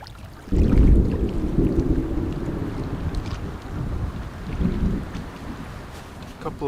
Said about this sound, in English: Just heard the first thunder.